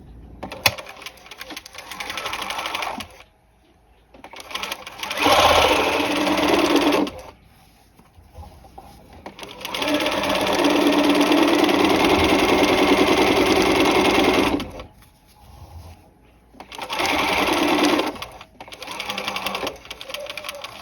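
Sewing machine stay stitching along the neck seam joining an upper collar to its facing, running in several loud bursts of steady whirring separated by brief pauses, the longest run lasting about five seconds.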